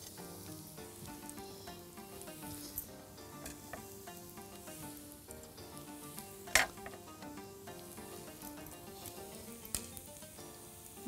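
Meat sizzles steadily in a pan with onions, a soft continuous frying hiss broken by occasional scraping clicks of stirring, heard alone at fairly low volume.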